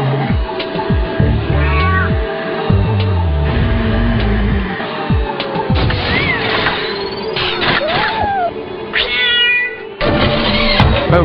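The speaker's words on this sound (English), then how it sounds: "bad kitty." A cat meows repeatedly in a busy household scene with a loud musical backing, several distinct meows and drawn-out cries rising over the mix, with crashes and clatter at moments.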